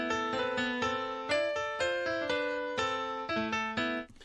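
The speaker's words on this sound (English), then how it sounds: "I went with hard piano inside the Keyscape folder." Hard piano patch from Keyscape plays a dark melody, a sequence of distinct notes struck in steady rhythm, each ringing with rich overtones, clear and up close with no voice over it.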